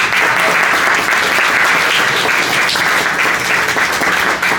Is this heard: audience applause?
yes